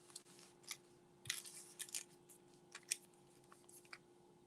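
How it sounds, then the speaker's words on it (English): Scissors snip open a trading card pack, a string of sharp, quiet cuts and crinkles spread across a few seconds, close and otherwise alone. "I only cringe when I'm opening the pack with the scissors"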